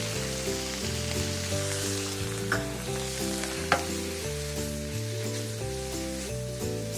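Fresh farmers-market vegetables sizzling in a pan as fresh-squeezed lemon juice goes in, a steady crackling fry with occasional stirring clicks under a soft background tune.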